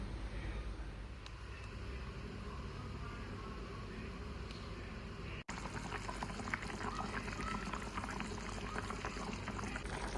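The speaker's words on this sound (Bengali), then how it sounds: "তো এই যে ঝোলটা ফুটে উঠলো" Fish curry boils in a pot, a soft, continuous bubbling and gurgling hiss heard close but quiet, with a single sharp click midway and no talking.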